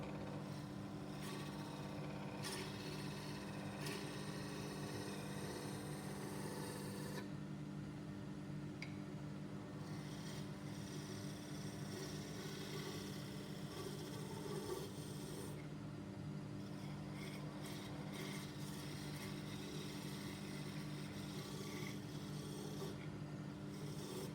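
A hand tool cuts wood on a spinning woodwork lathe with steady, light pressure. A continuous low motor hum runs underneath a soft scraping rasp, quiet and unbroken for over twenty seconds.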